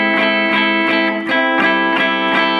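Electric guitar with distortion plays the rhythm section of a song, bright strummed chords hit in a repeating syncopated pattern, loud and close with no voices.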